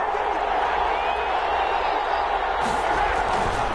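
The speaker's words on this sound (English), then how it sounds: "Listen to this crowd now." Stadium crowd roaring in a football video game before a two-point conversion in the fourth quarter, a dense, loud, continuous wash of cheering with a commentator talking over it.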